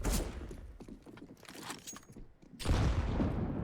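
A grenade bursts with a heavy, close boom about two and a half seconds in during a CS:GO match on Vertigo, its broad blast rolling on after scattered gunfire and footsteps earlier in the scene.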